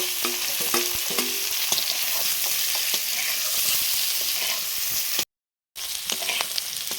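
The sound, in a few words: fried cauliflower added to the pan and stirred, sizzling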